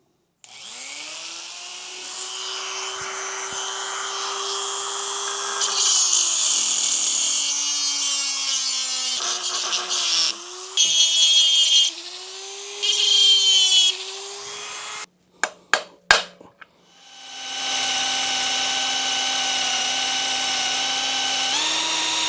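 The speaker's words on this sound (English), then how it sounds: "we're going to have to cut it, drill it, and tap it." A power drill whines and bogs as it drills out a snapped bolt on a Honda CR125R two-stroke motorcycle, running in bursts with pauses and changes in pitch, loud and close.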